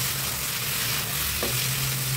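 Okra stir-frying in a pan that is shaken back and forth, a loud, dense, continuous sizzle with a brief rattle midway, heard up close with no voices.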